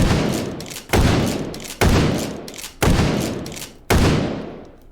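Five heavy virtual shotgun blasts from a Remington 870 in the VR game H3VR, spaced roughly a second apart, each a sharp loud report with a decaying tail, no talk over them.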